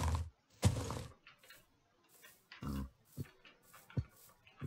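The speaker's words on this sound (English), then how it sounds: "Pigs." Minecraft pigs grunt and oink in short bursts, a few loud snorts followed by fainter scattered grunts and clicks.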